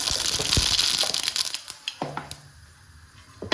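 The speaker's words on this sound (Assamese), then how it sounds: "অলপ ক'লা সৰিয়হ দি দিছোঁ ফুটিবলৈ" Black mustard seeds spluttering in hot oil in a kadai, a sharp crackling burst at first that settles into scattered loud pops and sizzles, close and without talk.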